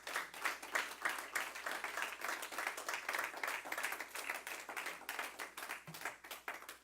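A church congregation claps together in a steady, dense burst of applause that fills the room at an even level throughout, with no voices standing out.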